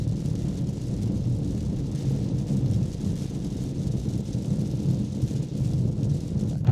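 Rain and wind roar steadily inside a moving Peugeot 3008 Hybrid 136 hp, a dense, continuous low rumble with no breaks and no voices.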